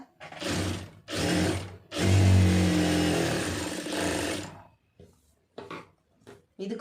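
Sewing machine stitching a lined blouse, running in several bursts of motor whir, one long run of a few seconds between shorter ones, fairly loud and close with no talk.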